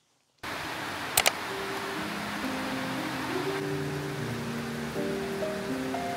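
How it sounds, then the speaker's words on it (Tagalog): Heavy typhoon rain in Baguio, a dense, steady hiss of downpour that begins abruptly and holds at an even loudness throughout, with a couple of brief clicks early on and faint humming tones underneath. "Ang lakas ng ulan, guys."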